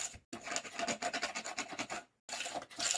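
Glue scraped along a handmade craft cover, heard as close, rough rhythmic rasping strokes in two bursts split by a brief pause.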